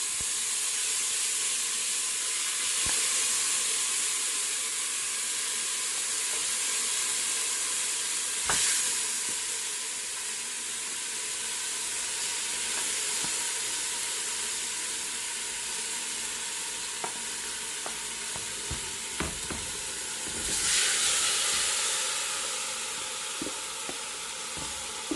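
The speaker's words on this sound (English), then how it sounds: "while the meat is still browning, I'll be checking on it because I do not want it to stick in the pot" Marinated pork browns in hot oil in a pot, giving a continuous sizzle and hiss with occasional louder bursts of spattering and a few faint clinks of stirring.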